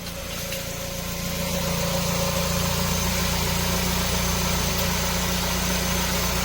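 A 2012 Renault Samsung New SM5 LPI idles with a steady low hum and vibration. The engine has a stalling fault.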